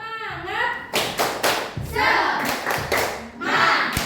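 Schoolchildren in a fourth-grade classroom clap a rhythmic pattern together, several sharp group claps in bursts with chanting voices mixed in.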